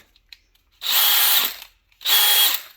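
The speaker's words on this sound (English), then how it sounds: "Back here is my hammer drill. It's also brushless." A brushless hammer drill whirs loudly in two short bursts, each spinning up, holding a high whine for about a second, then cutting off into silence.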